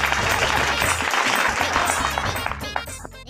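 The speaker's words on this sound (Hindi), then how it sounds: "तालियां तालियां।" Crowd applause breaking out outdoors among a gathered group, dense and loud, with sharp clapping and voices mixed in throughout, tapering off in the final moments.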